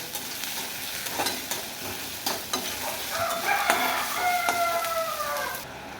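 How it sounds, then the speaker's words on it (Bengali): Onions with ginger-garlic paste fry and sizzle in a pan under repeated scraping stirs, with a faint high squeak in the middle before the sizzle softens at the end. "যতক্ষণ না আদা রসুনের কাঁচা গন্ধটা যায় ততক্ষণ আমি ভালো করে পেঁয়াজের সাথে ভেজে নেব।"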